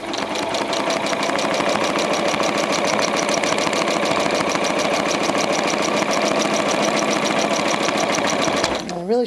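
A sit-down sewing machine hums and chatters steadily while free motion quilting, a fast even stitching rhythm running close and loud without pause, with a brief voice at the very end.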